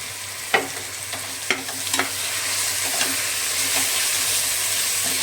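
Food sizzles steadily in a hot pan while a utensil scrapes and stirs, with a few sharp clinks against the metal, while cooking mutton biryani with turmeric.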